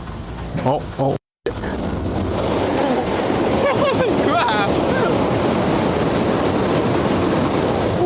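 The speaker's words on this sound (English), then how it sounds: "I keep forgetting how loud the bullet train is" A voice exclaims briefly, then a loud, close rushing roar of a Japanese bullet train sweeps past at speed near a low bridge, a sustained whooshing rumble that does not fade.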